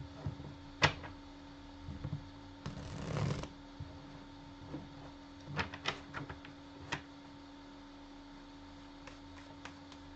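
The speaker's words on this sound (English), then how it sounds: "now we will shuffle and we can go to Taurus" A deck of tarot cards being shuffled by hand during a reading, with soft riffling and scattered sharp card taps and slaps, one longer burst of shuffling early on, heard close with no talking.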